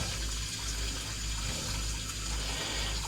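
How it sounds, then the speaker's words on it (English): Tap water runs steadily into a sink in a flooded half bath, a soft, continuous rushing gush with no break, alone and fairly quiet. "Let's fill the sink up."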